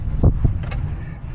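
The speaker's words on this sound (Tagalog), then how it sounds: "mahangin, kaya mahangin, malikabok itong pwesto ko" Gusty wind buffets a microphone at a dusty outdoor spot, with loud low-frequency thumps and rumbling bursts near the start, then a steadier rush that fades toward the end.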